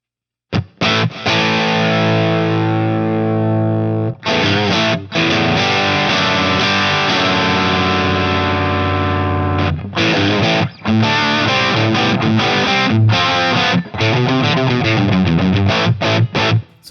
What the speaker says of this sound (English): Here's a Marshall tone that I use a lot.